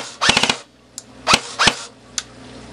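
A Classic Army Sportline airsoft gun fires close and loud: a quick burst of about four rapid shots, then single mechanical shots with faint clicks between them.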